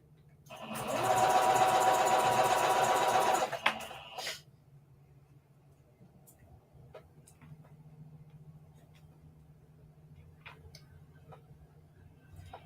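A sewing machine stitches reversible bucket hat fabric in a quiet room, a fast even whirring burst of about three seconds that then stops, leaving faint handling clicks.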